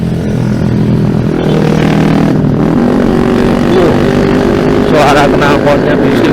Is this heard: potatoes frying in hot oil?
no